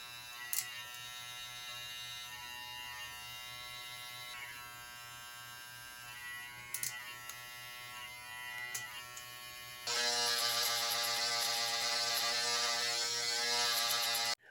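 An electric beard trimmer fades a beard close to the ear, buzzing steadily at close range. It shifts to a louder, brighter whine for the last few seconds, with no talking.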